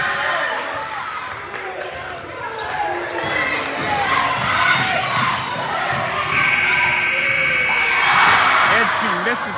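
A crowd murmurs and shouts amid bouncing balls at a basketball tournament championship game in a gym, then a loud, sustained buzzer blares near the end over the noise.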